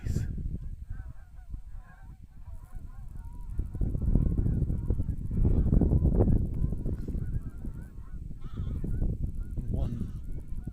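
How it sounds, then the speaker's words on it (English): A big flock of geese keeps up a loud, overlapping honking outdoors on farmland, the chorus building to a peak midway and then easing slightly. "That is a lot of geese."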